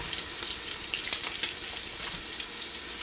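A turkey bacon patty cooks in a lidded pan, a faint and even frying hiss with soft scattered pops throughout.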